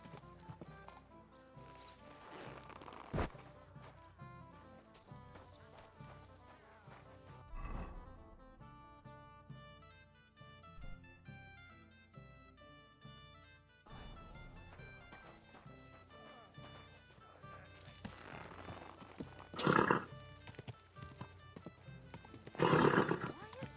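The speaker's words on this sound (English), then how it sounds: "Watch out with that horse!" Horse neighs and clip-clopping hooves in the medieval video game Kingdom Come: Deliverance 2, mixed with game music and character dialogue, with louder bursts near the end.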